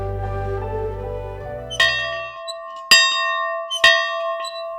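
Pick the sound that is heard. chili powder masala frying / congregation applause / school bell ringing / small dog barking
school bell ringing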